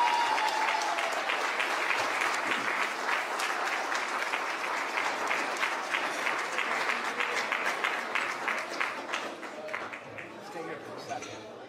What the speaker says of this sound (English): So can we please bring Mr. Nathan, give him a huge round of applause as he comes forward